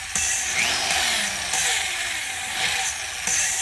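A power drill whines at high speed in bursts while cleaning engine valves and valve seats, the motor spinning up and easing off several times over a few seconds.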